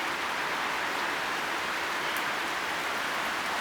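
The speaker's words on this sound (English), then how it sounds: "we're about to get slammed with some heavy rain here" Steady heavy rain pours down outdoors during gusty showers in southeastern Pennsylvania, a dense continuous hiss with no breaks, fairly close and even in loudness throughout.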